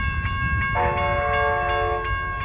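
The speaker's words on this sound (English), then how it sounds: "looks like we got a southbound train." An Amtrak California San Joaquin passenger train, number 716, passes a railroad crossing, sounding a steady multi-tone horn blast over a constant rumble of wheels and rail noise, loud and close.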